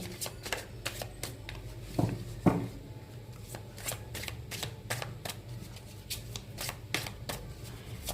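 Tarot cards are shuffled by hand close up, rapid riffling flicks in repeated bursts with a couple of louder taps, and no voice over them.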